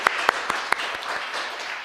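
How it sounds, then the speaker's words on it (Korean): A church congregation at a Friday prayer meeting breaks into brief clapping, a few sharp claps at first that quickly thin into a light scattered patter. "우리 박수 한번 합시다."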